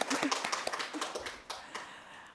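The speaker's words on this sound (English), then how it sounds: "Can we give a round of applause to Dr." Audience at an art history lecture on ivory gods in early Byzantium claps, a quiet patter of scattered hand claps from a modest crowd, fading and thinning over two seconds.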